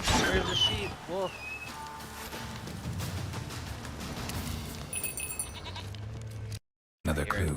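A sheep bleats in a video game with a wolf nearby, its wavering calls repeating over busy game sound and ongoing talk, with a brief dropout near the end.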